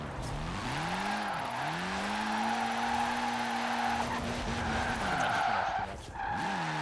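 Sustained tire squeal and skidding from a drifting car in Forza Horizon 4, with engine revs rising and falling as the wheels spin, loud and continuous with a brief dip near the end.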